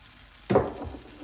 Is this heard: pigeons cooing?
no